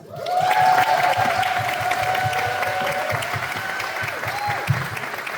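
A film screening audience applauds the filmmakers during a shorts Q&A, a full round of clapping that swells quickly and stays steady, with a sustained music tone running beneath it.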